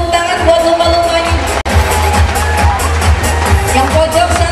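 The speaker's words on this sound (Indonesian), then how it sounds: "Boleh kasih semangat, tepuk tangan buat lumba-lumbanya." A crowd at a dolphin show at Ocean Dream Samudera Ancol sends up a continuous roar of cheering and clapping, loud and close, with a brief sharp dropout partway through.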